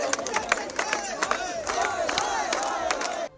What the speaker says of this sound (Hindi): इसके बाद तो छात्र वहीं धरने पर बैठ गए और नारेबाजी शुरू कर दी।